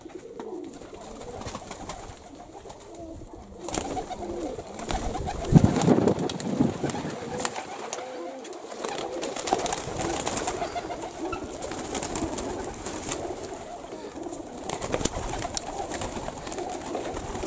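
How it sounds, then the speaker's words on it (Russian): Young pigeons being trained coo softly and repeatedly, with wing flutters and outdoor rustling throughout. "Продолжаю, друзья, тренировать голубей."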